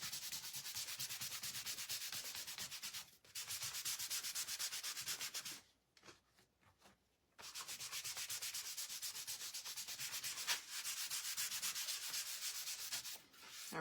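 Wax rubbed by hand across the face of a painted wooden sign in steady, close scrubbing strokes, with a brief quiet pause partway through before the rubbing resumes.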